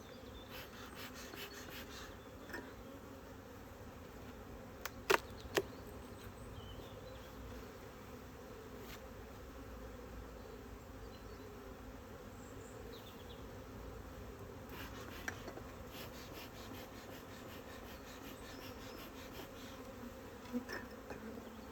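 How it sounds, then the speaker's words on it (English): Crowded honey bee hive mid-inspection, a thick, unbroken buzzing swarm sound held steadily and close for the whole stretch, with occasional faint clicks and no talking. "But every layer is full of bees."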